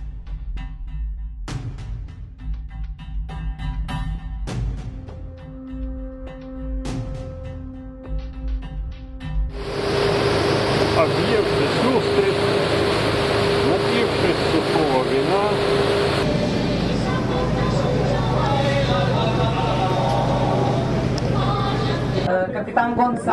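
A tourist boat's engine drones steadily beneath wind and water noise during a coastal trip in Galicia, Spain, growing louder and denser partway through while people talk over it.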